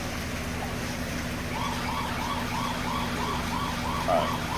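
A low-water alarm beeps a repeating electronic tone in a steady pulsing rhythm over a constant low hum, fairly loud and close.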